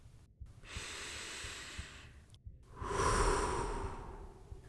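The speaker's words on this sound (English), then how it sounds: "Breathe in, breathe out." Two slow, close breaths, each an inhale followed by an audible exhale, from the character in Tomb Raider 3.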